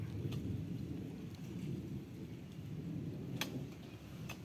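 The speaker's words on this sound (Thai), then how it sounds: "โอ้ฝนตก" Rain falls with thunder, a quiet, continuous wash of rain under a low, distant rumble, with a few faint drips or ticks standing out, and no voices.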